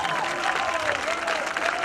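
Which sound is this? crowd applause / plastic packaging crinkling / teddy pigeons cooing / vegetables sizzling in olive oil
crowd applause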